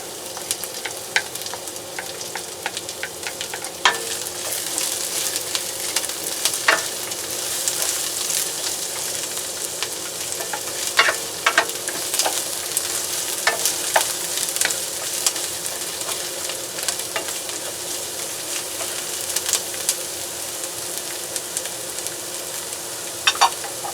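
Onions are added to a pan of reddened garlic and fry with a steady, crackling sizzle, broken by occasional sharper pops and stirring clicks, close and constant, with no one talking.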